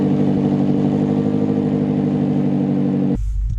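A 2021 BMW X6 M Competition fires up and its engine roars, a loud, sustained, rumbling idle with rich low harmonics that cuts off abruptly near the end.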